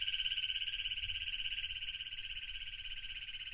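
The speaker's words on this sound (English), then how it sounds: "These are the bumblebee dart frogs that are calling." Tiny bumblebee dart frogs call in a steady, buzzing trill that runs on without a break, fairly soft and unaccompanied.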